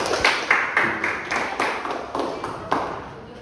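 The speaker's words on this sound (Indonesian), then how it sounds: "Tepuk tangan untuk kelompok retoris." Applause from a classroom of high school students greeting a student group before its presentation, a short burst of clapping with rhythmic claps rising and falling over a few seconds, without any talk.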